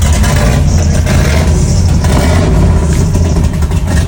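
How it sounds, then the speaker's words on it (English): A naturally aspirated 572 big block John Cassie engine of about 800 horsepower in a Ford F100 truck revs hard, giving a loud, throaty, raspy roar that stays close and dense throughout. "572 big block John Cassie motor. And this thing puts about 800 horsepower, naturally aspirated."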